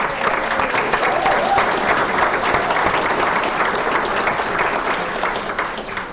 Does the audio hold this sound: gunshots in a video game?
no